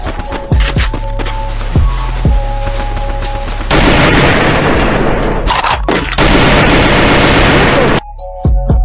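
Rapid gunfire in a mobile battle-royale shooter match, with loud sharp shots in bursts and a dense stretch of continuous automatic fire, ending in a few isolated reports.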